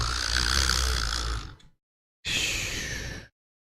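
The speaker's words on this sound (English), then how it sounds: "In a few seconds, I was snoring blissfully." Snoring sound effect from the visual novel Everlasting Summer: two long, loud breathy snores, the first about a second and a half, then a pause and a shorter second one, with no talk.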